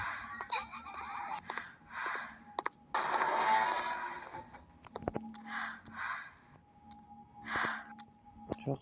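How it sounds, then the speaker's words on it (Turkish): Heavy, breathy rasps from a creature in a fog-shrouded hospital horror video game rise and fall in repeated bursts, with one long loud exhale near the middle over low ambient game noise. "Nefes alıyor"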